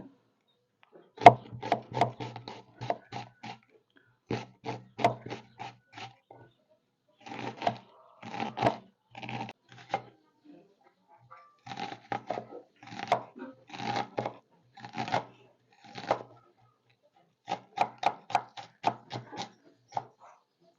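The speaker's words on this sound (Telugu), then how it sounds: "ఇప్పుడైతే ఉల్లిపాయలు కోసేసుకుందామండి" Onions chopped with a knife on a cutting board in a home kitchen, quiet rapid bursts of crisp taps in several runs separated by short pauses, close and alone.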